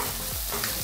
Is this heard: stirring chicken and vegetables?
yes